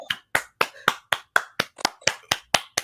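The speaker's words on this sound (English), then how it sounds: "I'm sorry, I gotta clap for this." One person claps their hands about eleven times in a steady, fairly quick rhythm, each clap sharp and close by, with no other sound around.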